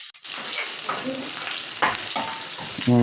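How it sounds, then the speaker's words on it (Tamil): Half a kilo of onions sautéing in a pan for a Madurai village country-chicken dish, with a steady close sizzle and the scrape of stirring. "அரை கிலோ வெங்காயம் இருக்கும் ஆமாம் ஆமாம் இதை நல்லா வதக்கணும்"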